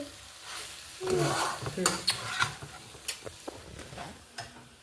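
Mutton curry sautéing in a pan is stirred with a utensil, a soft frying sizzle punctuated by scraping strokes and clinks, with a brief spoken word.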